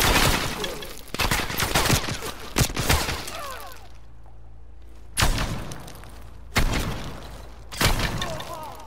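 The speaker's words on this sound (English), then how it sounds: "Stop shooting at me. It's rude." Rapid bursts of gunfire from a Call of Duty Black Ops Cold War match crack loudly in clusters with short gaps, mixed with sharp impact noises and brief voices in the background.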